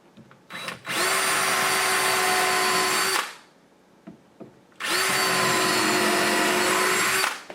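A power drill drives screws into kitchen cabinet crown molding and trim in two whining bursts of a few seconds each, separated by a short pause with light handling knocks.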